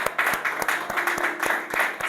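A church congregation celebrating its seventh anniversary claps rhythmically in a steady beat under a continuous wash of cheering voices.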